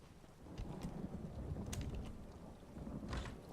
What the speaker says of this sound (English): Yeah, I could hear the thunder outside.